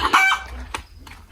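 A chicken clucks loudly and close, a short burst of squawking calls followed by a couple of quieter clucks.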